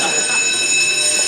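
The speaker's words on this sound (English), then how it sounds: "Ain't that a school fire alarm?" A school fire alarm rings continuously, a loud, steady metallic tone filling the short span, with voices talking over it.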